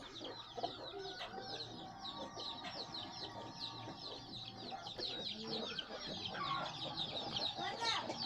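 Soft, repeated clucking from a short-nosed hen with faint peeping of her chicks, a steady farmyard murmur at moderate distance.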